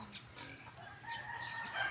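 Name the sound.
chicken crowing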